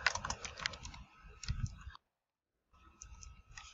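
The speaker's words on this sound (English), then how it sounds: "so we will just type it in" Typing on a computer keyboard during a book-title search: quick, close clicking keystrokes in bursts, with a brief silent gap before the tapping resumes more faintly.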